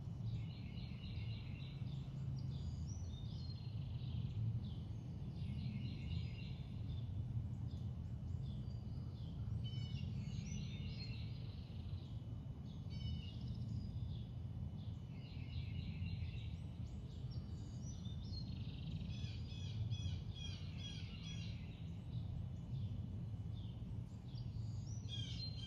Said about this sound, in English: Maybe listening to the birds.